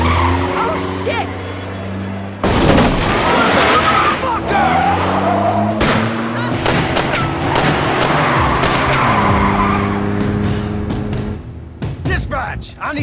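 A car crash and pileup at the bottom of a grade in the video game As Dusk Falls, with tires skidding and squealing, a sudden loud impact, engine roar and scattered crunches amid game music.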